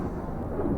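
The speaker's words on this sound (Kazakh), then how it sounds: "Найзағай." Thunder in a video game forms a low, continuous rumble that holds steady at moderate loudness for under a second, with no speech over it.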